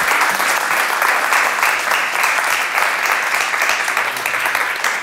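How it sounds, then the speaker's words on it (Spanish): Lecture audience applauding to welcome a speaker, a dense, sustained burst of many hands clapping, fairly loud and steady for about five seconds with no talking. "recibamos con un aplauso acá a Javier Blanco."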